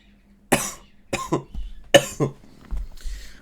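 Several harsh, loud coughs come in bursts, with throat clearing between them, close to the microphone and with no talking.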